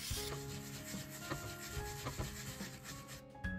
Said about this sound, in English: I peel off the skin and I grate the yam into the paste.